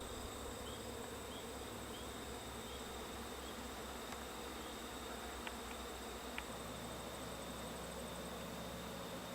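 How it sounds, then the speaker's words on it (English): Honey bees on orientation flights at a beekeeping farm, young workers circling the hive to learn the area: a dense, steady swarm-buzz holds throughout at an even loudness, with a few faint chirps above it and no voices. "That's what's called orientation flights. Those are the bees learning how to fly and learning the neighborhood."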